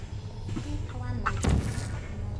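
Portal gun firing in the video game Portal, a single sharp zapping shot with a bright burst that quickly fades, heard under game ambience.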